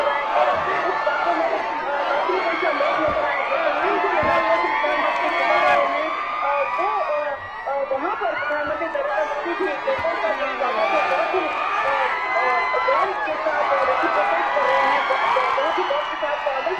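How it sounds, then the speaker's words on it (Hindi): A large crowd gathers to welcome Prime Minister Narendra Modi at a roadshow, a dense, continuous roar of cheering, whooping and chatter that holds steady throughout, with a reporter talking over it. "प्रधानमंत्री का स्वागत, शानदार स्वागत करने के लिए यहाँ पर भीड़ उमड़ पड़ी है"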